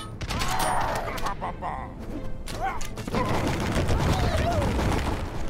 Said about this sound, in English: Nice, cannons are doing well.